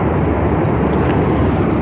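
Airplane cabin during a flight: a loud, steady broadband roar of engine and airflow noise, continuous and unchanging, with no voices.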